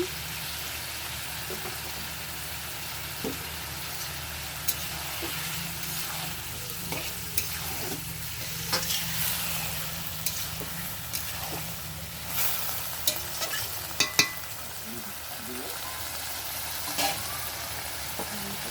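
Chicken pieces fry and get stirred in hot oil for chicken kosha, a steady close sizzle with scraping stir strokes and occasional sharper pops throughout, no talking.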